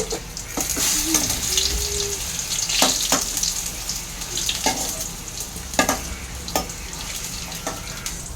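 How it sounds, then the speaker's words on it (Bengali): Potatoes deep-fried in oil crackle with a steady close sizzle, punctuated by scraping and clinking as the pieces are lifted out of the pan. "আলুগুলো আমার ফ্রাই করা হয়ে গেছে, এবার আলুগুলোকে আমি তুলে নিচ্ছি।"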